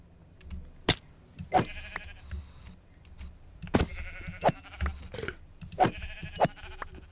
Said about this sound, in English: Here's some sheep.